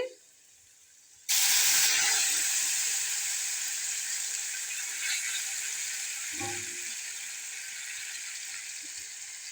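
A sudden loud hiss and crackle of spices spluttering in hot oil for rasam tempering, sizzling steadily and slowly easing off, with a faint clink partway through.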